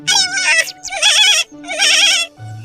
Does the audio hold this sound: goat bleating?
yes